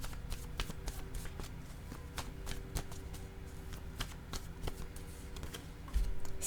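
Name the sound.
shuffling a deck of cards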